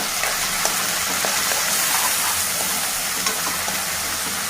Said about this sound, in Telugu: ఇప్పుడు రుచికి సరిపడా ఉప్పు నెక్స్ట్ పసుపు ఇప్పుడు కలుపుకోవాలి